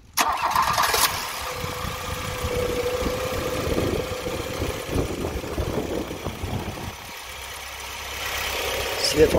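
A car engine is cranked and started during a charging-system check, settling into a steady idle hum under background talk, with a brief dip near the end.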